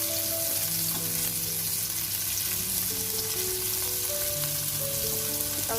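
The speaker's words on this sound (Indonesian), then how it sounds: "Kita tumis sampai harum." Shallots and spices sautéing in a pan for a tempe gembus dish give a dense, continuous close sizzle and crackle, with sustained tonal notes, like background music, running underneath.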